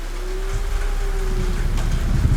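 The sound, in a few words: rain in the Dark TV series opening credits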